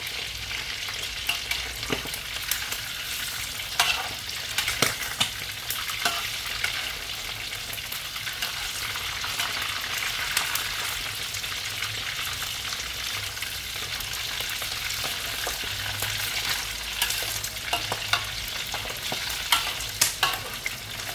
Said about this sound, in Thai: ทอดหมูสามชั้นเพื่อให้หนังตึงๆนะคะ